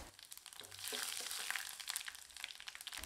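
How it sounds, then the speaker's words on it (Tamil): Urad dal, coriander seeds, cumin and black pepper dry roasting in a pan, giving a steady soft crackling and rustling as the spices are stirred, close and moderately quiet with no talking. "இப்போ இதெல்லாமே நல்லா வறுபடட்டுங்க."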